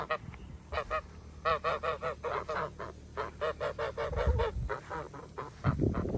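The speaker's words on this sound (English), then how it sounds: "And Emden geese." Emden geese honk repeatedly in rapid, overlapping bursts on a farm, moderately close, with some handling rumble and low background noise.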